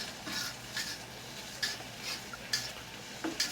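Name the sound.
stirring mead mixture in a pot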